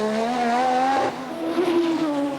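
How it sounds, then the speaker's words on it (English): A Formula 1 car at speed in practice for the 1986 Australian Grand Prix, its engine a loud, sustained high-revving whine that dips briefly and climbs again, close and continuous with no talking. "He's built up the speed, flash of sparks as the car bottoms"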